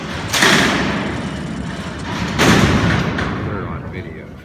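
All 13 steel cell doors at Alcatraz prison open at once with two heavy, booming clanks about two seconds apart, each trailing into a long metallic rumble, while voices murmur in the background.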